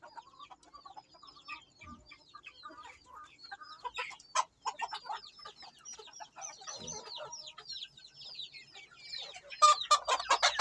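Native heritage chickens, roosters and hens, cluck repeatedly in short rhythmic calls, close and moderately loud, with a burst of busier clucking near the end.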